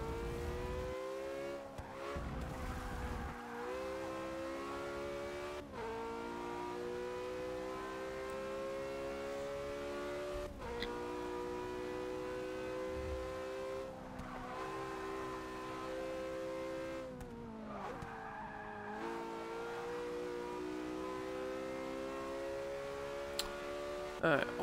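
Porsche 918 engine in the racing video game Forza 6, a high rising whine climbing through the revs with repeated shifts and brief drops, sustained throughout at steady loudness.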